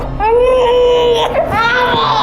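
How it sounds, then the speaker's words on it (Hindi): An infant girl cries loudly and continuously in a home setting, a rising and falling wail with a short break midway, near and dominant throughout. "बच्ची रो रही है"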